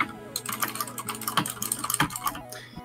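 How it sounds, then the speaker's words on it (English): Rapid clicky typing on a mechanical keyboard, loud and close, with irregular bursts of keystrokes across the whole moment. "We really like the sound of your keyboard. Oh, it's so clackety."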